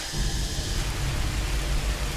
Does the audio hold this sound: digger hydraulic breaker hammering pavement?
no